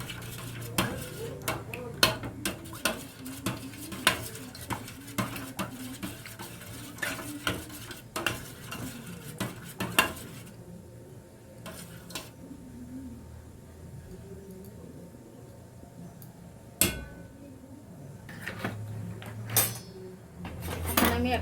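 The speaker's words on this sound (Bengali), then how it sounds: "এই যে এইভাবে করে আমি ফেটে নিচ্ছি" Eggs are beaten with chilli and pepper powder in a bowl, a quick rhythmic clatter of utensil against the bowl that runs steadily and then pauses, before a few more scattered clinks near the end.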